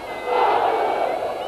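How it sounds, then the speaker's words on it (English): Crowd cheering and roaring at a Muay Thai fight after a roundhouse kick, a dense swell of many voices that rises quickly and holds loud and continuous. "That brought the crowd to life."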